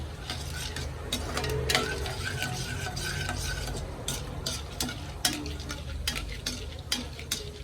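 Potato mixture frying in hot oil, a steady close sizzle and crackle running throughout with occasional scrapes and clinks of a metal spoon stirring in the pan.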